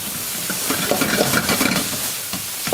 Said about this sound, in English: Give it an old stir. We don't want it to stick, and it will stick really quick.